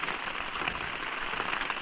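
Steady rain falls in Kaimanawa National Park as a dense, even hiss of drops on surfaces. It is soft and continuous, with no voices.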